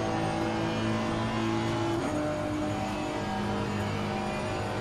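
A GT3 race car engine drones steadily at high revs around Spa-Francorchamps in Assetto Corsa Competizione, a loud continuous roar with a slight shift in pitch midway.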